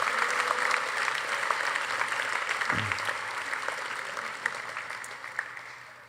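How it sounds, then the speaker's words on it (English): A ceremony audience at a class night applauds honored students with dense, sustained clapping that gradually tapers off toward the end. "Please give them a round of applause."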